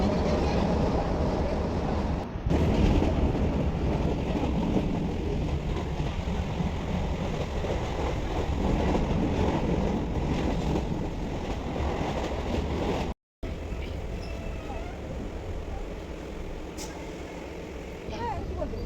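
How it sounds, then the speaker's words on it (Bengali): Inside a moving passenger train, a steady loud rumble of wheels and carriage noise fills the space for nearly twenty seconds. Voices murmur beneath it, and there is one brief dropout near the end. "ট্রেনে উঠে পড়েছি সিট নিয়ে বসে পড়েছি"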